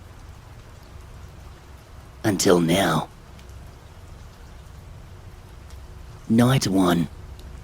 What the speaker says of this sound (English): The rain had come in quite quickly this time around.